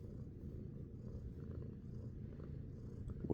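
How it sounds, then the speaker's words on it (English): A cat named Eleanor purrs softly and close up in a quiet room, a low continuous rumbling purr with faint rhythmic pulses and a small bump of noise at the end. "Can you hear her purring?"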